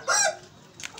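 A chicken gives one loud, close, squawking cluck, followed by a couple of fainter short clucks.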